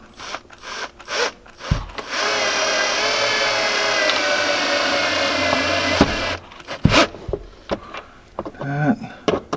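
Screws being tightened down on a Can-Am X3 tablet holder, a close ratcheting, grinding run of a few seconds between scattered clicks and handling knocks.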